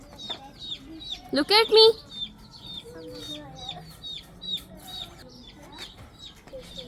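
Small chicks cheep and hens cluck at a school pet activity, a cluster of sharp loud calls early on followed by scattered softer peeps and clucks, with a voice speaking briefly.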